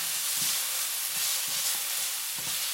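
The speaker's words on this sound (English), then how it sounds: "Brown up the white onions." Chopped white onions brown in a hot pan, giving a continuous loud hiss and sizzle with a few low stirring bumps along the way.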